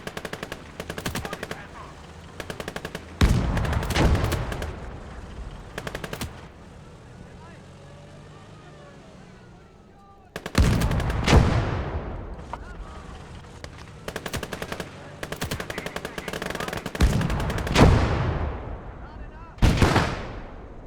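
Sustained machine gun bursts and heavy artillery blasts from a Gates of Hell Ostfront battle, with loud impacts and rattling fire recurring across the span while someone speaks intermittently over the combat.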